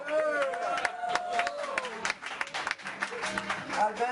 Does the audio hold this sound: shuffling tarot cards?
no